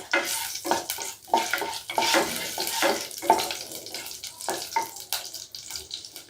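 Cinnamon sticks, cardamom pods and a bay leaf frying in hot ghee for a sweet rice zarda: close, steady crackling and sizzling with irregular bursts and stirring scrapes, moderately quiet and unbroken.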